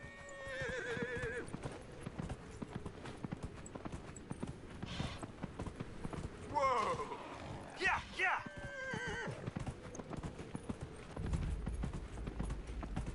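Horse hooves clip-clop at a steady gallop across Dragon Age Inquisition terrain, with whinnies and neighs breaking through at intervals and a voice talking over much of the ride.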